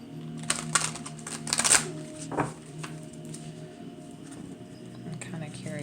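A deck of cards is shuffled by hand, a quick burst of riffling flutters and snapping card edges, then the deck is tapped and squared before things quiet down.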